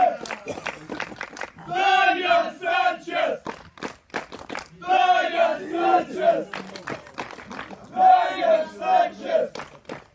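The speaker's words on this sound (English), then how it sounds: "Sanchez releases the hold, and the crowd starts chanting his name." A crowd at a Russian deathmatch wrestling event chants a wrestler's name in three loud rhythmic bursts, clapping and stamping sharply in between.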